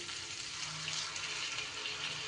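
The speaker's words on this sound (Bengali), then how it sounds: "এইবার আমি দিয়ে দিচ্ছি জল" Water pours steadily into paneer curry in a pan, a continuous broad splashing hiss close up with no voices.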